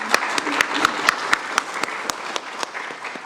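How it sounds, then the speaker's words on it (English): A conference audience applauds with brisk, even clapping at moderate loudness, scattered sharp individual claps standing out from the crowd's steady patter. "So let's give a round of applause to Miss Davis."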